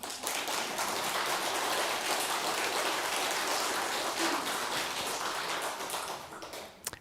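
An audience applauding at a Buddhist dharma service, a steady dense wash of many hands clapping that holds evenly for several seconds and then tapers off at the end.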